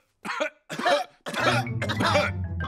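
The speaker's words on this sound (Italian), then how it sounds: "tutti gli adulti hanno preso la tosse da Pedro" Cartoon characters in a Peppa Pig episode cough in several harsh bursts, three separate barks followed by a longer rough spell of coughing and throat clearing, close and clear.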